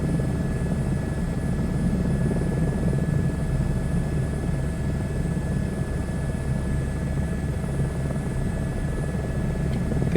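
A helicopter flying over Toronto gives a loud, steady close-up rotor and engine drone that holds without a break, heard from inside the cabin with no talking.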